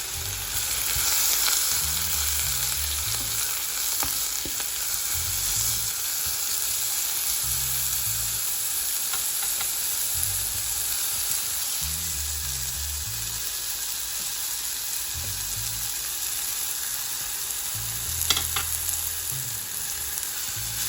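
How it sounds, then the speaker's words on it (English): Leeks sauté in a pan with a steady close sizzle and hiss throughout, and occasional soft stirring scrapes. "We just want to saute them until they are soft."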